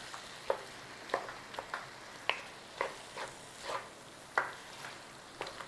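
Sardine chunks stirred in a hot pan give a faint, soft sizzle broken by a series of short spoon scrapes and clinks at an uneven rhythm, close by and with no talking.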